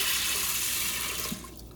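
Three cups of water pour steadily onto rinsed black beans in a pot, giving a continuous close splashing rush that tapers off near the end, with no talking.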